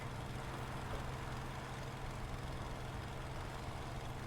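Aircraft engine nearby in War Thunder, a steady low droning hum that stays even and continuous, faint and unseen.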